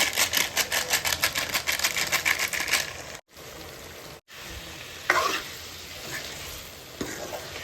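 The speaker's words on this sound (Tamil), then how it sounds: "இந்த மிளகாத்தூள் நம்ம நல்லா கிளறி விட்டோன்னே எண்ணெய் பிரிஞ்சு வந்தது பார்த்திங்களா" Chili powder frying in oil while being stirred for chicken gravy, with quick rhythmic scraping strokes over a steady sizzle, followed by a brief pause and then a softer crackling sizzle with occasional stirs.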